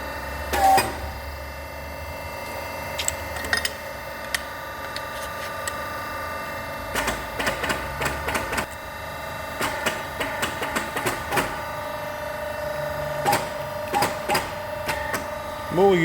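A tube expander with a tapered arbor and segment fingers works on exhaust tubing for a 1938 Baby Austin, giving sharp metallic clicks and clanks in irregular bursts over a low steady hum in a workshop.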